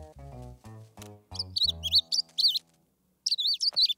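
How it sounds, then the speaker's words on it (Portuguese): Cartoon baby bird chirping in quick warbling bursts, high and bright, following a few deep musical tones, then pausing before another rapid chirping run and a final squeak. "Tenho que tomar conta do passarinho bebê."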